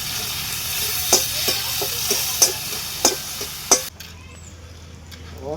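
Tomatoes and curry leaves fry in a pan with a steady hiss, and a spoon scrapes and taps the pan five or six times in a loose rhythm, up close. The sizzle then drops to a quieter, fainter frying sound.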